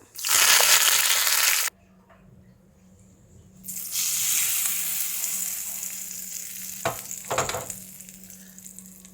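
Curry leaves hit hot oil for onion-free tomato chutney, setting off a loud burst of sizzling that cuts out abruptly. A steadier, softer frying hiss then returns with a few sharp spatters near the end.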